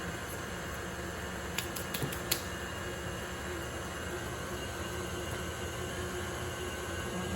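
A stand mixer kneads bread dough with a low, constant motor hum and faint whirring, quiet and steady throughout, with a few soft knocks near the middle.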